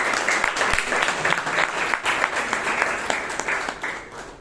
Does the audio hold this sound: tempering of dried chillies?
no